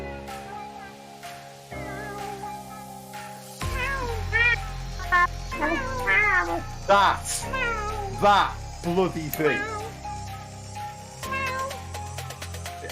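A cat meows repeatedly in short, wavering cries, close and fairly loud, over a steady background hum, with a voice speaking briefly near the start.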